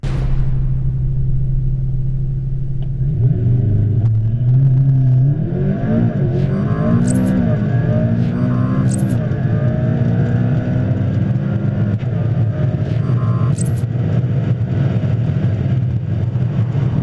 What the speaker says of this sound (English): took the car down the runway out of view, and hit the launch control button, presenting a world-exclusive acceleration run in the McLaren P1